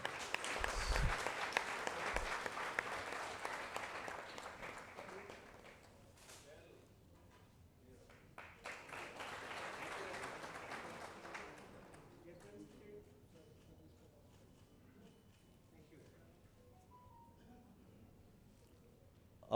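Audience applause welcoming the chief guest at a Fiem Foundation event, a loud burst of clapping at the start, then a second wave, fading into quiet room noise with talk.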